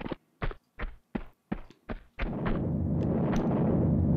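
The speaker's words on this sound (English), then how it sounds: "Stop shooting me" Gunfire in the Tomb Raider II video game on an offshore rig: six sharp, evenly spaced shots in quick succession, then a loud sustained roaring burst that fills the rest of the moment.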